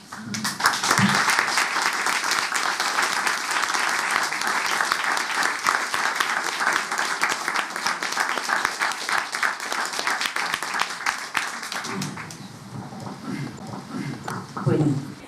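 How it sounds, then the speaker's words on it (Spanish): Sustained audience applause at a tribute to Marilú Pelento, a loud, even roar of many hands clapping that carries on for over ten seconds before thinning out, with a speaker's voice returning at the close. "Un aplauso para ella"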